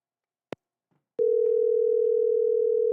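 A steady telephone dial tone sounds loud and continuous after a couple of brief clicks as a call is being placed, with no talking over it.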